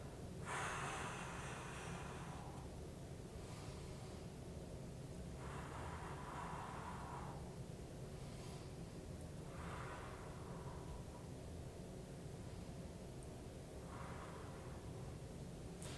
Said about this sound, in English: Breathe out as you lower. Breathe in as you rise back up.